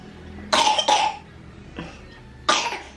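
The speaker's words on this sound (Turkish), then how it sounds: "Daha öksürüğü kaldı." Several short, harsh coughs nearby: two in quick succession, a softer one after a pause, then one more, with quiet in between.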